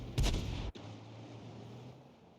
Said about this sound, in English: You can see the enemy is firing at the rear guard of our tanks on the hill.